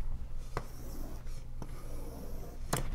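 Chalk or marker scratching across a board during a mathematics lecture, several short strokes with brief pauses between them, close and fairly clear over room tone.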